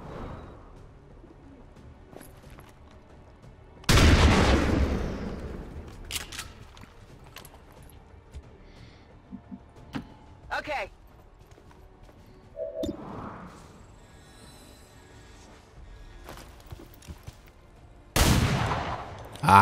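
Gunfire in the turn-based strategy game XCOM 2, a few loud, separated shots and bursts with sharp onsets and decaying tails, spaced among quieter stretches that carry faint bird coos.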